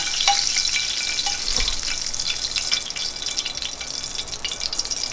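Shallots sizzling in a hot pan beside New York strip steak, a continuous bright crackling hiss with scattered pops and a brief utensil clatter, alone without talk.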